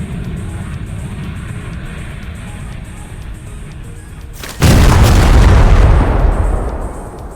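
A bomb goes off in the Teardown video game, a sudden loud boom that bursts over a quieter rumbling background and holds as a heavy roaring wash for about two seconds before easing off.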